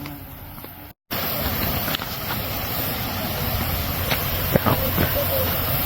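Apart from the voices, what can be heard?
raging Hotnitsa waterfall in Bulgaria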